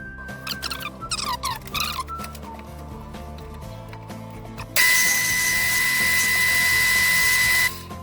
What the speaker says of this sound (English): got our mark, we've got our drill, our bit.